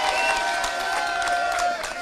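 Party delegates at a Kenyan DCP candidate launch are applauded by the audience with a dense, steady burst of clapping from a large crowd indoors that eases slightly near the end.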